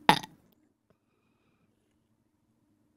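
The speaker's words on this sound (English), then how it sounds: "You can make burp sound lower or higher pitch." A single short, loud burp right at the start, followed by near silence.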